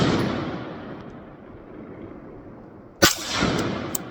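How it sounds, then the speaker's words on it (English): An AR-15 rifle fires during a magazine torture test. A loud gunshot echoes and decays at the start, then a second sharp crack rings out about three seconds later, each with a long reverberant tail. "we're gonna fire 2 rounds and we're gonna see exactly how she shoots just with 2 rounds"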